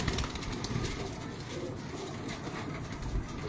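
Pigeons cooing from a rooftop loft in Multan, a soft steady murmur of coos under a dense, continuous wash of background noise with no talking.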